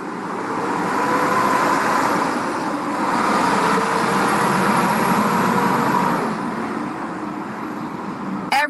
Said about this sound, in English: Every truck wants to drive by me today in the loudest way. Those are loud ass trucks.